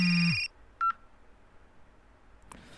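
Phone dialing tones in the video game Reynatis: a loud sustained tone that cuts off, then a single short beep, followed by near silence.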